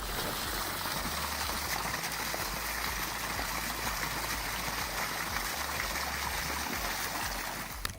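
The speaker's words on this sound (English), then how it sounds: "Water just started gushing out of a tree trunk like it had its own secret faucet" Water gushes steadily out of a tree trunk outdoors, a loud, continuous rushing stream-like flow with no pauses or speech.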